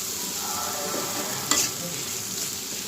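Small mola fish frying in a pan, with a steady soft sizzle and faint stirring throughout and one sharp scrape or clatter midway.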